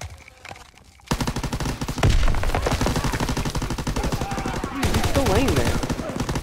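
Rapid automatic gunfire rattles almost without pause in a video game shootout, loud and dense, starting after a quieter second and swelling again near the end.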